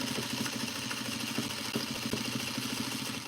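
A sewing machine runs steadily at close range for a Simplicity 8059 duster, its motor giving a continuous mechanical drone with a fine rapid stitching pulse and no pauses.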